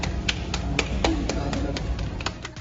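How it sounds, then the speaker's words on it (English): Hand clapping in a steady, even rhythm of about four claps per second, fairly faint and close, running over low background noise with no voices. "Can you clap?"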